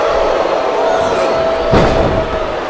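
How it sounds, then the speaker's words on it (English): Wrestling arena crowd in the PS2 game Smackdown vs Raw 2007, a steady loud roar of massed voices with a brief thud-like swell partway through, no commentary over it. "I think this crowd's giving these superstars a piece of their minds, King."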